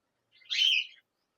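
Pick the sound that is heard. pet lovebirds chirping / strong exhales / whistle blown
pet lovebirds chirping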